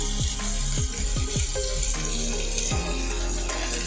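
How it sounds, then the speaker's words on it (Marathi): Onion and tomato sauté in hot oil, a loud dense close sizzle running throughout, marked by quick clattering scrapes and pops from stirring with no voices. "कांदा थोडासा लालसर झाला की मग आपण त्याच्यामध्ये टॉमॅटो टाकायचा"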